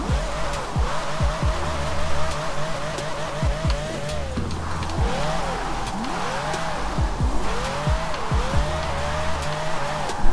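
Ferrari 599 drift car in Forza Horizon 4 circling a roundabout, engine revving up and down repeatedly in rising and falling sweeps with tire squeal throughout, loud and close.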